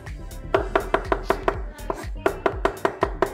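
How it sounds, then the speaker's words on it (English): A knife chops fresh cilantro on a board for Miami-style conch salad, giving a steady run of sharp, close, rhythmic knocks with a short pause midway. "Thing about this cilantro, man, once you start cutting it"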